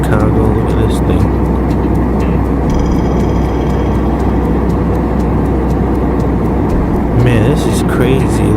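A loud, steady roar of engine and airflow fills an airplane cabin in flight over Chicago, a constant broadband drone with faint brief clicks and no clear speech.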